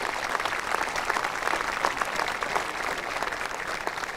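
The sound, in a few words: audience applause at graduation ceremony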